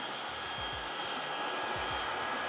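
Proscenic P11 cordless stick vacuum at its highest power setting roars with a loud, steady whooshing drone, close and constant, after a few soft low thumps at the start.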